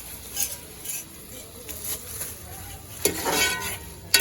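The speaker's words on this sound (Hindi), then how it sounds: "मसाला वगैरह हम यहाँ पे भून रहे हैं" Masala spices being fried and stirred in a pan, a steady low sizzle with scraping spoon strokes and a couple of sharp metallic clinks from the pan near the end, close by.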